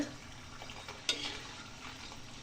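Murukku frying in hot oil over a medium flame, a soft continuous sizzle with a faint metallic clink partway through, quiet and close with no voices.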